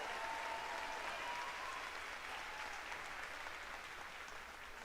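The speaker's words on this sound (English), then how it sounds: "we need to give each one of these kiddos a round of applause" Sustained audience applause fills an arena at a school district livestock lamb show, steady broadband clapping from a large crowd held at an even level throughout.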